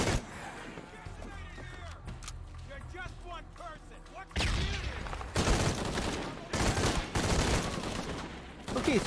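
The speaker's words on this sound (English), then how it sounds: "Where are the guys shooting from?" Enemy gunfire in the Shadow of the Tomb Raider video game, first as scattered shots under game ambience, then heavy, loud bursts of rapid fire arriving in clustered volleys during the second half.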